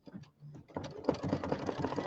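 An embroidery machine stitches a placement line for a small glitter vinyl piece, starting with a few soft clicks before settling into a close, steady, rapid mechanical stitching whir.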